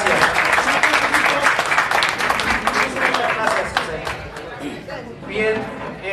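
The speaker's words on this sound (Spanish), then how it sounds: "Fuerte el aplauso para la senadora." A crowd at a Chamber of Commerce event in Yonkers applauds the senator with loud, thick clapping mixed with chatter and voices, gradually thinning toward the end.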